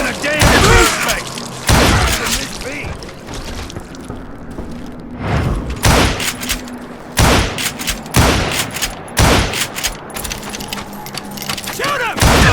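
Loud, close gunfire in the Western shooter Call of Juarez: Gunslinger, sharp irregular blasts and bursts spread across the scene with brief gaps between them.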